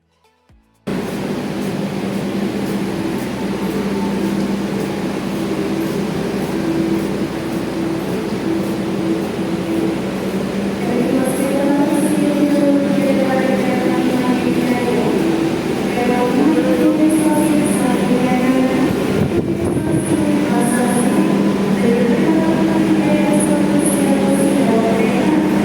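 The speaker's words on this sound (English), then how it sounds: "We are riding the same train as yesterday, the Joglos Market Road train." The Joglosemarkerto passenger train runs on the rails between Yogyakarta and Cilacap, heard from inside as a loud continuous rumble and rattle with rhythmic clickety-clack and occasional squeals, sustained throughout without talk.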